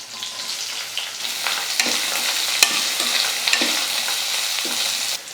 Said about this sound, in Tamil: வெங்காயம் வந்து நல்லா இந்த மாதிரி கலர் மாறுற அளவுக்கு நல்லா வதங்கணும்